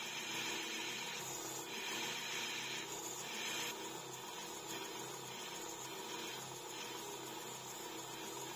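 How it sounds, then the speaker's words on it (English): Steady abrasive grinding hum of a homemade belt sander working a steel plate, continuous and fairly loud, with slight swells as pressure shifts. "Here I'm sanding it nice and round and perfectly flat on my homemade belt sander."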